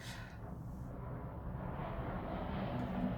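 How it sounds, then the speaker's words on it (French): A fighter jet passes overhead, its distant roar rising steadily and growing louder over about three seconds, alone with no talk. "Avion de chasse."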